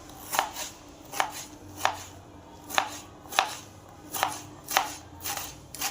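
Bamboo shoot being chopped crosswise into small pieces with a knife on a board, giving about ten sharp, even knocks at a steady rhythm, close and clear with no talk.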